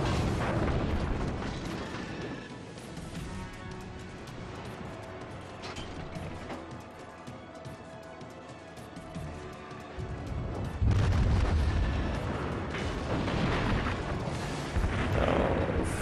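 Naval gunfire and a torpedo launch in World of Warships rumble through a dense, continuous wash of booms and blasts, swelling louder and heavier toward the latter part.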